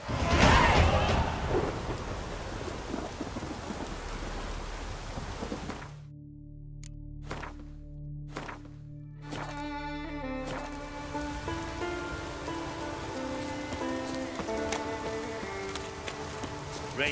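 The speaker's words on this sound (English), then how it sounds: "raining fucking buckets." Heavy rain falls in the video game The Witcher 3, with thunder rumbling as a steady downpour hisses throughout, and musical tones rise over the storm partway through.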